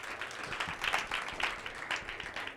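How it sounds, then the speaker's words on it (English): Audience at a Share the Code community event applauding, a continuous crowd of clapping hands at moderate level, full and sustained without pause. "All right, let's give another round of applause."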